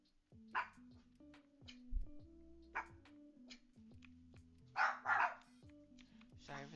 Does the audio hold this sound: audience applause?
no